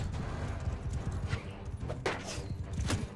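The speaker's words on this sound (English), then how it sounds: "there goes my horse" A horse's hooves clatter in quick, uneven clip-clops over dense battlefield noise in Mount and Blade Bannerlord, with a few sharp accents near the end and no clear neigh.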